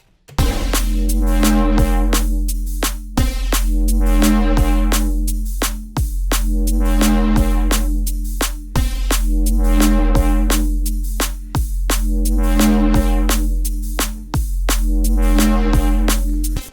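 A deep, sustained synthesized boat horn tone sounding in repeated long blasts about every few seconds, each starting with a sharp click, loud and close.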